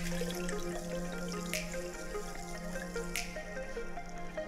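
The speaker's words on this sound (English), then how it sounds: "I like to give the seeds a bit of a stir" Quiet liquid sloshing and soft drips, with two faint clinks as sprouting seeds are stirred through water in a jar.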